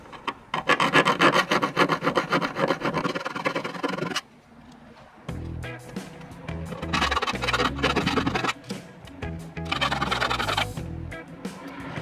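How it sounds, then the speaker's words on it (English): A small hand file scrapes a burr off a freshly drilled hole in a 2018 Ford F150 truck fender, three close, steady bursts of rasping strokes separated by short pauses. "I'm gonna go ahead and clean that up real quick with this small file."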